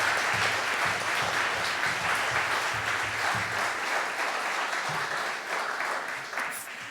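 An audience applauds at a Hawaiian music event, a dense, lively burst of clapping that holds steady and then begins to taper toward the end, with a few voices faintly underneath.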